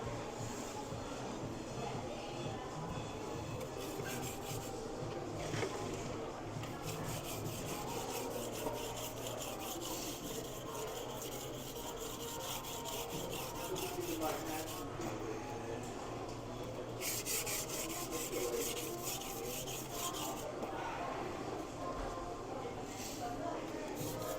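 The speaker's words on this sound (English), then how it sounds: "put on a primary edge on stones. I don't know if you can see that here, but just a quick, like, what's this, 320 grit." A 240mm Takeda AS wide gyuto is rubbed back and forth on a 320 grit sharpening stone in a steady, gritty scraping rhythm, fairly quiet with speech at times over it.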